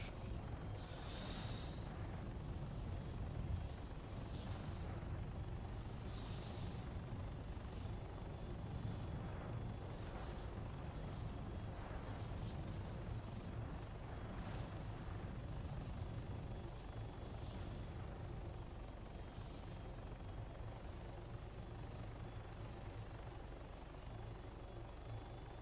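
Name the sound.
helicopter flying in a video game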